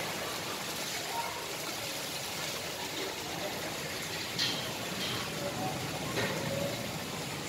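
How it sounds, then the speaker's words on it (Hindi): Flood water from heavy rain in Panchkula pours out of a house in a steady, hissing rush that stays even throughout, with faint voices in the background. "ये हमारे घर में से पानी निकल रहा है"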